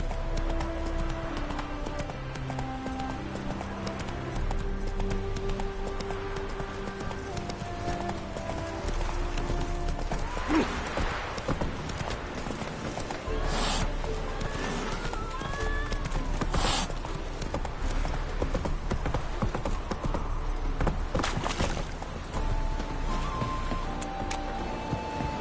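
Roach, the horse in The Witcher 3, gallops with steady clip-clop hoofbeats close by, layered over game music and ambience, with a few brief calls and whinny-like sounds mixed in.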